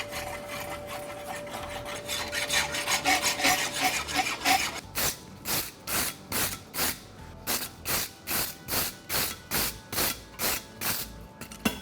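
Farrier's rasp scraping across a caulked hunter hind horseshoe with a wedge, starting as dense rubbing then settling into steady, evenly spaced rhythmic strokes, close and loud, with no talk.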